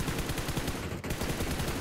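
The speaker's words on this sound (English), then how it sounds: "Can you shoot at the right side of that tree right there?" Rapid automatic gunfire from the PUBG Mobile video game, a dense, loud, continuous stream of shots with one brief gap near the middle, without speech.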